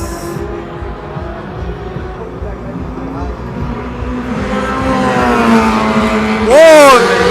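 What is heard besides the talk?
Porsche and Toyota race cars at Le Mans 24 Hours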